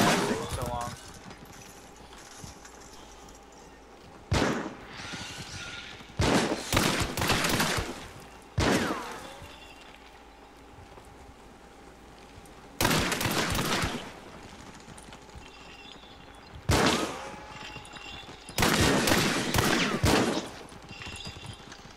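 Semi-automatic gunfire in Hunt: Showdown, loud sharp shots fired in irregular bursts and single cracks spread across the clip, with quieter gaps of game ambience between.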